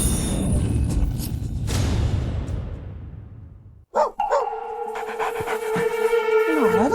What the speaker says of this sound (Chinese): 哪来的狗啊？